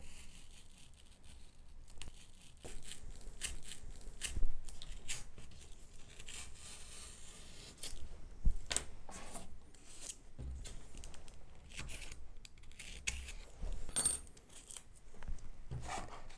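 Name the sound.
razor blade cutting a small bevel in a model tail former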